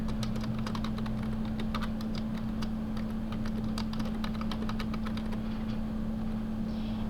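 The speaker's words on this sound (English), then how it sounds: "So if I start typing here," Rapid keystrokes clatter on a computer keyboard in irregular bursts over a constant low electrical hum, with no one speaking.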